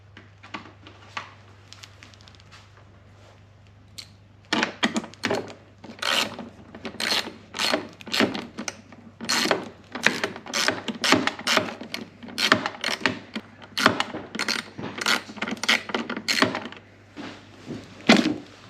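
Ratchet work driving two 10mm bolts to lock a Form Lighting LED headlight into place, a long run of quick rasping clicks in bursts, close and steady, after a quieter stretch of handling.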